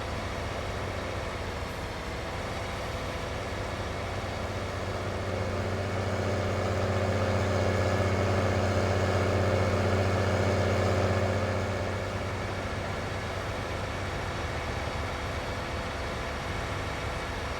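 Tractor engine in Farming Simulator 19 droning steadily with a low, even rumble that swells slightly in the middle before settling back, continuous with no talk.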